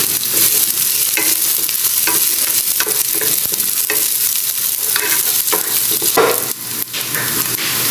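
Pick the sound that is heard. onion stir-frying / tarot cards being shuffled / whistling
onion stir-frying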